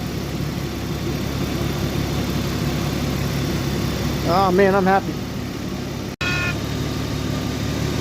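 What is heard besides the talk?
Genesis G70 engine running after rebuild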